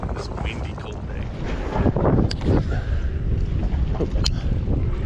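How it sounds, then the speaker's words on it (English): Wind gusts buffet the microphone on a cold, windy day at Lake Balboa during a fishing tournament, a rough, rumbling rush that swells and falls with the gusts. "This windy, cold day."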